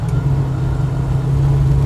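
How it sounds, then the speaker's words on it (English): A 1967-72 Chevrolet C10 pickup with triple adjustable coilover shocks drives along, a loud steady low engine drone with road rumble, heard close without talk. "the truck still moves pretty good too."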